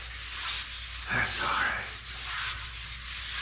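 Wood being sanded, a steady abrasive rubbing that swells and fades in passes, with a short burst of louder scratching midway and a brief spoken aside over it.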